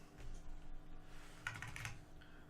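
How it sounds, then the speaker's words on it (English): A computer keyboard's up arrow is tapped a few times in quick succession, soft close clicks clustered together over a faint background hum, with no talking. "I'm just pushing up on the keyboard."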